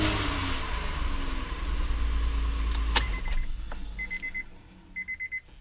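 A 2002 Honda Odyssey engine runs briefly with a steady idle rumble, then shuts off with a sharp click, followed by a few quiet repeated electronic chime beeps from the van.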